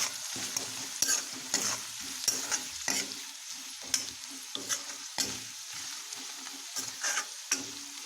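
Ridge gourd and potato with spices, salt and garam masala are stirred in a frying pan over a medium flame, giving repeated scraping strokes over a soft, steady sizzle, up close and with no voices.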